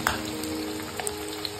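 Ginger-garlic paste sizzles and crackles steadily in a hot pan while cooking a drumstick curry, with a faint, continuous frying hiss and a few small pops, no talking.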